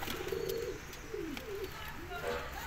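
A pair of pet pigeons, a blue male and a red female, gives repeated rolling coos, several separate calls rising and falling near the listener.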